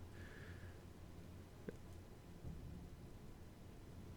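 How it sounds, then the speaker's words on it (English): Rain patters steadily in Elden Ring: Shadow of the Erdtree, with a faint low rumble of thunder rolling underneath, quiet and distant throughout. "it started raining just as this happened"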